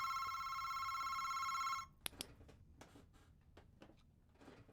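A telephone rings in the horror video game Manic Mannequins, a bright, continuous electronic trill that stops abruptly after about two seconds, leaving faint clicks and quiet footsteps.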